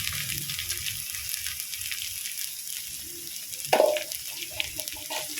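Turmeric tipped into hot oil and a well-cooked spice paste for a Bengali potato, taro and fish curry, giving a soft steady sizzle with a brief louder burst of frying midway.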